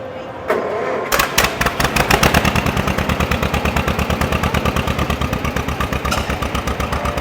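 A John Deere Model M tractor engine cranks and catches, then settles into a loud, steady, rapid two-cylinder chugging with sharp regular pops, close by and with no talk.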